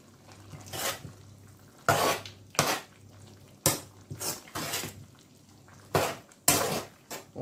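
Meat is stirred in a pot, with a spoon scraping and clinking against the metal in irregular bursts, fairly close, separated by brief quieter pauses and no speech.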